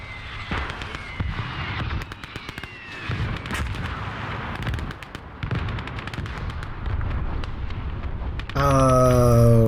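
Artillery and gunfire boom across a battlefield in the WWII strategy game Call to Arms: Gates of Hell. Dense, repeated blasts and sharp shots crackle almost nonstop, some near and some distant, ending with a brief tonal wail.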